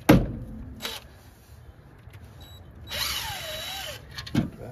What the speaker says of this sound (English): we'll go get the 12 millimeter socket on the impact driver right here